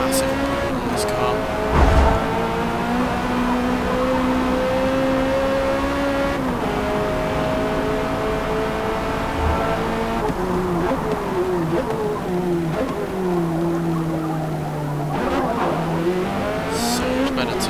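Race car engine revving and shifting through gears in Forza Motorsport, a C8 Corvette racing at the front of the pack, with brief tyre squeal, loud and steady throughout while someone talks over it.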